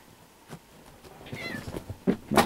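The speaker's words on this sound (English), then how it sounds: "My cat." A house cat meows a few times, faint to moderate and fairly close, among light rustling in an indoor room while trading cards are being unpacked.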